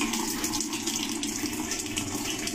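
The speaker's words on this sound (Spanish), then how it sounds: "vamos a ver por qué nos cae poca agua en la lavadora" Tap water streams into a washing machine that is filling slowly because of a low-flow fault, making a steady close rushing hiss with no pauses and no speech.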